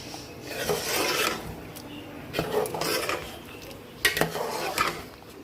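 Metal scraping and clinking of a utensil stirring chicken biryani masala frying in a pot, repeated rasping strokes with occasional sharper clanks, fairly close, no talking.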